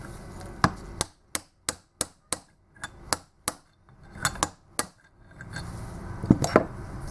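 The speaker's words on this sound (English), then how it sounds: "Just whack it enough to go over the steel shaft." Socket hammered against a bearing to drive it over the steel slip ring shaft of a Valeo alternator, giving about a dozen sharp, close metallic whacks in an irregular series with quiet gaps between them.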